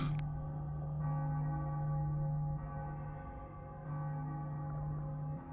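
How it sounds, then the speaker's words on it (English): Cracked church bells in the game Cyberpunk 2077 ring with an eerie, atonal clang: several slow, resonant strikes a few seconds apart, each with a long, humming decay, heard alone and at moderate volume. "Bells were cracked too. Gave off this eerie, atonal clang."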